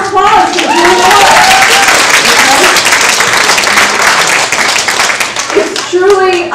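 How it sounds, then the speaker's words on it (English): An audience at a peace action dinner and presentation breaks into sustained, loud applause with dense clapping from many hands, fading slightly before a voice speaks briefly at the end. "let's give all of us a round of applause for doing that."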